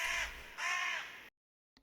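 A crow caws twice in the video game Horrorcraft Reanimated, two harsh close calls followed by silence and a short clipped sound at the end.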